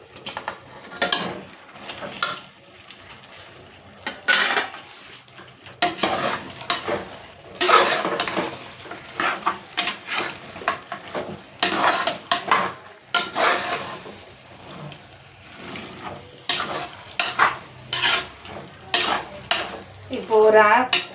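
Meat sizzles in a hot pan while a utensil scrapes and stirs in uneven bursts, with occasional clinks of metal on the pan.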